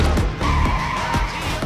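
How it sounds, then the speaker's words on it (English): A luxury car's tires squeal in a sustained skid as it loses control, loud and close with engine rumble underneath. "The car instantly lost control."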